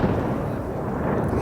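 Explosions pounding Beirut's southern suburbs at night form a continuous heavy, rumbling roar of blasts, loud and dense throughout with no clear gaps between them.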